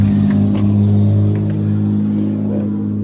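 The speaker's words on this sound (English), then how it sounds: "That truck, monster truck coming up the street." A monster truck drives up a residential street in Nanticoke, its loud, low engine rumbling steadily and revving slightly, close and dominant throughout, with no talking.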